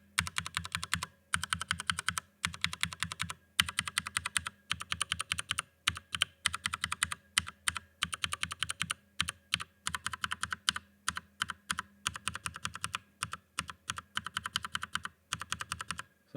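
Mechanical keyboard with lubed Cherry MX Brown switches typed on steadily, rapid close clacks in bursts with short pauses, crisp and moderately loud with no talking.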